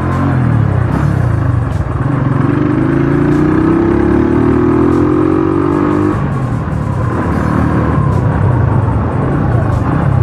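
Honda GL100 motorcycle engine on a test ride, a loud, steady drone with a rising pitch as it pulls through a gear, then dropping back, heavy wind rush throughout.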